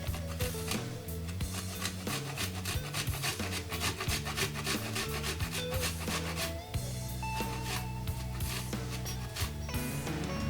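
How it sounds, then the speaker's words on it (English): Fresh ginger being grated as finely as possible for Nigerian fried rice, giving a steady, close, rhythmic rasping scrape of quick repeated strokes that continues throughout with no talking. "So just grate as finely as possible."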